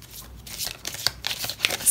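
A deck of tarot cards is shuffled by hand in quick, uneven riffles and slaps, close to the microphone, with no voices.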